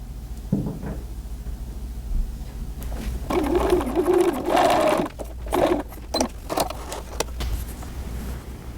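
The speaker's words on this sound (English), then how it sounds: "Here is my sleeve and my front piece pinned together through the circle and ready for me to sew." A home sewing machine stitches a pinned sleeve to the front piece of a bodysuit, its motor whirring in uneven bursts that start and stop over several seconds, close and fairly steady, with no talking.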